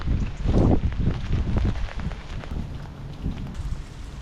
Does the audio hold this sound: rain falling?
yes